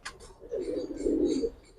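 Giribaz pigeons coo in low, throaty rolling phrases that swell and fade over a couple of seconds, close and fairly soft, with a brief higher chirp at the start.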